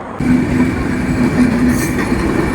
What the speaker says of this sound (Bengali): এখান থেকে কিছুক্ষণের মধ্যে আবার ট্রেনটা ছাড়বে